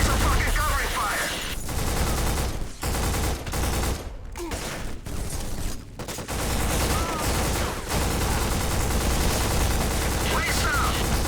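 Video game gunfire, dense sustained bursts of automatic weapons firing in a loud continuous barrage with brief lulls, with voices shouting over the shooting.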